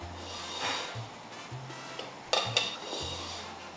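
Broth from oxtail being stirred into a spicy scotch bonnet birria sauce in a pot, with a few sharp clinks of a spoon against the pan and soft scraping between them, close and fairly quiet.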